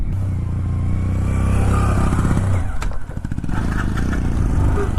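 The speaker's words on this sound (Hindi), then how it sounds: "वो बाइक फिर से नहीं चढ़ पा रही है" Hero Splendor Plus 100cc motorcycle labouring up a high-altitude Ladakh road, its engine droning loud and strained with uneven revving and a few clattering thumps partway through.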